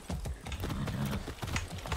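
Horse hooves clip-clop at a steady walking rhythm in the video game Far Cry 6, close and fairly loud, with a faint snort or whinny among the footfalls.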